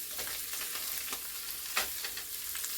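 Sausage and potatoes browning in a pan, a low steady sizzle with occasional stirring scrapes and one sharper clatter, close by and fairly quiet, with no talking.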